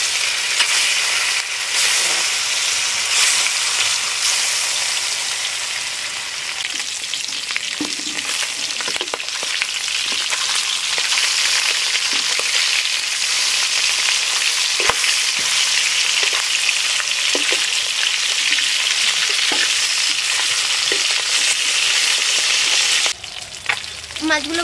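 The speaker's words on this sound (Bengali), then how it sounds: "এই তেলে মাছগুলো ভেজে নেব" Magur catfish frying in hot mustard oil in a kadai, a loud, steady close sizzle and crackle with occasional soft stirring knocks, continuing for a long stretch before cutting off sharply.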